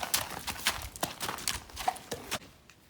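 A horse walks toward a stable, its hooves striking hard ground in a steady, close clip-clop of about a dozen distinct steps with no talking.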